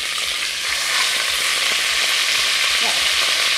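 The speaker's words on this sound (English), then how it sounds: "The perfect sizzle." Beef sizzles loudly frying in hot oil, a steady bright crackling hiss with faint stirring underneath, no voices.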